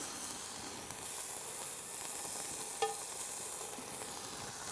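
Bacon sizzles and hisses steadily in a pan at an outdoor bush campsite, a soft continuous crackle with one brief pop near the end.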